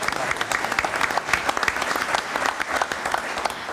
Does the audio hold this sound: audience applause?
yes